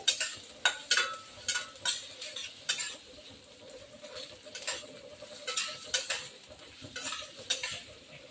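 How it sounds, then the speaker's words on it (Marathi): Onion frying in a pan while being stirred to a light brown for chili chicken, soft sizzle underneath repeated scraping stirs of a spatula against the pan, close and steady. "कांदा आपल्याला हलकासा ब्राऊन करायचा आहे."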